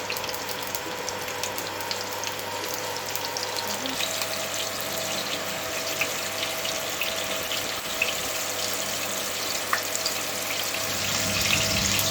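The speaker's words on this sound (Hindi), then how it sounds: "हम प्याज फ्राई कर लेते हैं।" Two onions fry in a pan for beef pulao, giving a steady close hiss and sizzle with faint crackles, getting slightly louder toward the end.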